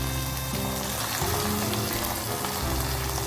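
Onion with ginger-garlic paste and bay leaf frying in a pan, giving a dense, steady sizzle with crackling spatter throughout and low stirring or clattering sounds underneath.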